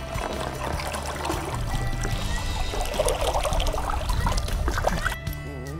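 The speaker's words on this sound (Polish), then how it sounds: "Ryba odhaczona do wody." A caught chub slips back into river water after unhooking, giving a brief splash and trickle over steady flowing water and low background rumble.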